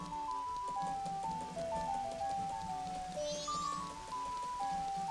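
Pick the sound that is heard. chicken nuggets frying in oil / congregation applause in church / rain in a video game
rain in a video game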